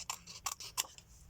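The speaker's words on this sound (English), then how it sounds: "You just use your scissors, go to the edge of the ink, follow the edge" Scissors cut out leaf shapes from ink-coloured card for a handmade card, making several crisp close-up snips in an uneven rhythm, with no talking.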